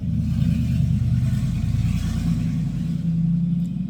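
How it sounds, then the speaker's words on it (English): A loud truck drives by outside an open window, making a heavy low engine rumble that stays strong and steady throughout. "I don't know if you heard that the loud truck going by."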